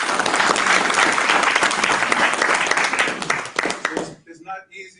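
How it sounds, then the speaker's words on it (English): Loud, dense audience applause at a startup pitch event, steady for about four seconds and then thinning into a few scattered claps and murmurs. "let's give her a round of applause."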